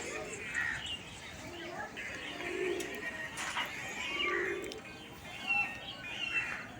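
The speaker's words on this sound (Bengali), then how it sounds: "এদিকে সব পায়রা উঠছে" A flock of rooftop pigeons rises in scattered bursts of calls and wingbeats, with intermittent chirps and rustling swells nearby and low voices in the background.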